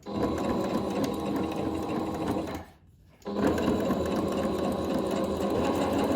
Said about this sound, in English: We're gonna go ahead and sew a straight line, back stitch at the top and bottom.